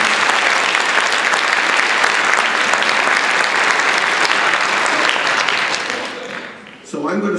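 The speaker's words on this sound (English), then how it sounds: "Let's have a round of applause for our panel." A university lecture audience applauds a panel, sustained and loud clapping for about six seconds that fades away, followed by the start of a voice speaking.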